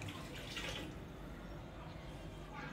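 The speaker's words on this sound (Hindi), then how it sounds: "तकरीबन हमने इसमें डालना है 6 गिलास के करीब पानी" Water pours into a cooking pot holding onions for chicken pulao, a continuous close splashing rush without talk.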